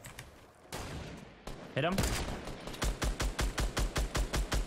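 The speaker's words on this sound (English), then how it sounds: "Oh god, we're being shot though." Rapid automatic gunfire in the Fortnite Battle Royale video game, a steady stream of loud, evenly spaced shots in its second half after a brief voice speaks, with players chatting over the shooting.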